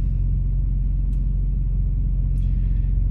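A semi truck's engine rumbles steadily while driving on the highway, with a constant low drone heard close from inside the cab and a couple of faint brief clicks over it.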